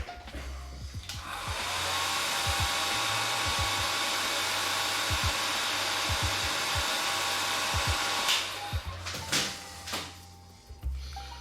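A hair dryer runs steadily at close range for about eight seconds while a miniature is being painted, its airflow a loud, even whoosh, then cuts off, leaving a few clicks and handling knocks.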